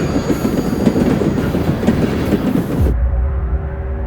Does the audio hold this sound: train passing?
yes